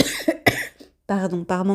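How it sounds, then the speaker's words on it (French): Two sharp chronic coughs from a woman ring out close by, then after a brief pause she starts talking. "Il fallait qu'elle revienne, cette toux chronique, je suis navrée."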